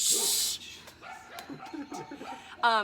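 A dog barks a few times indoors, short, fairly faint yaps scattered over a couple of seconds, with some chuckling and brief voices nearby.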